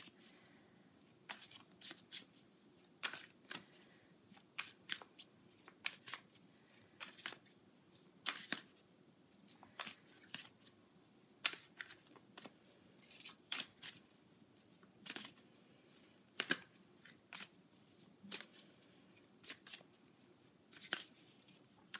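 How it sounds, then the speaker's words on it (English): A moon tarot deck is shuffled by hand in a run of crisp card riffles and flicks, bursts spaced irregularly over a quiet background, close and clear, with no talking. "I would like to pull a card from my moon deck"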